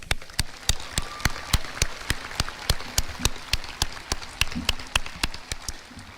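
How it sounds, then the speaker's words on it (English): Slow, evenly spaced claps at a graduation ceremony, sharp separate hits roughly every third of a second over a quiet room, with no voices on top. "And I think that deserves a round of applause."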